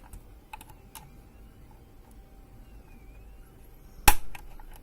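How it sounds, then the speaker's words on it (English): A C-ring pressed onto a screw while building a DIY chiller for a Canon 650D camera gives a single sharp, loud click-pop near the end, after a few faint small clicks and handling noises in a quiet room. "Yeah, you can hear a very sharp pop noise."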